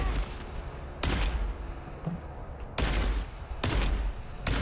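Heavy gunfire in the video game GTFO, coming as loud sustained bursts that cut out and resume several times over a dense, rumbling background.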